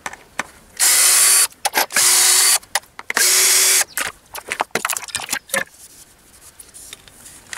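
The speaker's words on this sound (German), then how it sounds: "Und jetzt suche ich mir meinen Akkuschrauber und dann machen wir draußen weiter." A cordless screwdriver drives screws into panels outdoors while building a grill hut, several loud whirring bursts of about a second each separated by clicks and handling clatter, close and alone.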